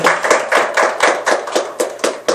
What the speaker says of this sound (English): Let's give the Lord a big hand clap